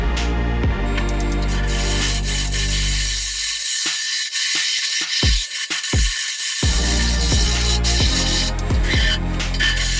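Wood lathe spinning a bowl blank while a tenon is cut: a steady low motor hum with a scraping, rasping tool sound over it, a brief drop where the cutting pauses, then the scraping resumes close by.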